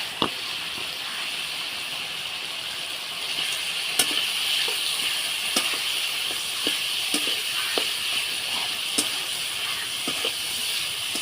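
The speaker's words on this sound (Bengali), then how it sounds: "এবার দিয়ে দেবো ভেজে রাখা মাছের মাথা।" Fried hilsa fish heads go into a pan of spices, and a steady soft sizzle and hiss follows, with faint scattered pops and clicks of utensils throughout and no talking.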